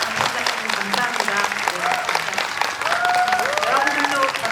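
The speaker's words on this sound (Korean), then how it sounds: "큰 박수 부탁드립니다" Audience applause at a film talk event, a steady wash of clapping with voices and cheers mixed in throughout.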